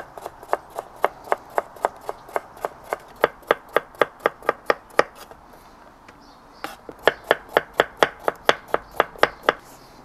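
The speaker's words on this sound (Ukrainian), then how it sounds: "ми швиденько нарізаємо моркву." Carrots being chopped with a knife on a board, a fast, even run of sharp close knocks about three per second, pausing briefly midway before resuming at the same brisk rhythm.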